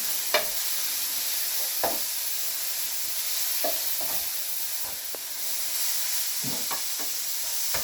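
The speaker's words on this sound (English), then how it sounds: "got that sizzling away nicely there" Food for nachos sizzles steadily in a pan, a constant crackling hiss broken by a few sharp clinks and scrapes of stirring.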